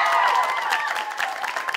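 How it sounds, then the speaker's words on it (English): Audience applause and cheering at a school performing arts production of 'Little Shop of Horrors', a dense, steady burst of clapping from a crowd, continuous and fairly loud throughout. "Give him a round of applause"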